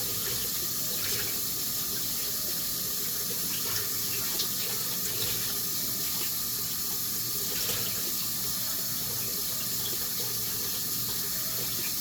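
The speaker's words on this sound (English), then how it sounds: "So rinsing it very well with cold water." Steady rush of cold tap water running over noodles in a sink, continuous and moderately close, with faint clatter now and then and no talking.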